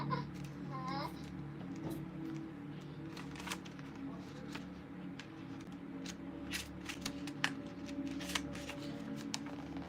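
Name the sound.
shuffling tarot cards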